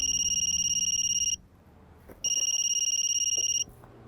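An electronic telephone ringtone trills loudly in two bursts, separated by a short pause filled with faint room noise, with no speech heard.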